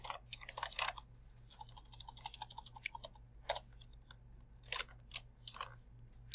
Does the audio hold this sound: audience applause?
no